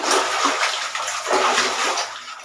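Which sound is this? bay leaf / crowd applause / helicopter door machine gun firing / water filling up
water filling up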